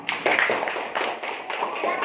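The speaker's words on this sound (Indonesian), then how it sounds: "Tepuk tangan untuk kelompok Riko." Classroom applause for Riko's group after their presentation, a short burst of scattered clapping with uneven bursts, fairly close, with a hint of voices mixed in.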